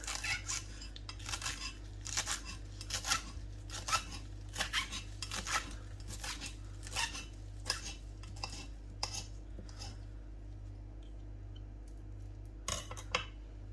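Coriander leaves and stalks chopped with a knife on a board, a series of faint, fairly quick cutting taps in irregular bursts over a steady low hum, thinning out toward the end, with no talking.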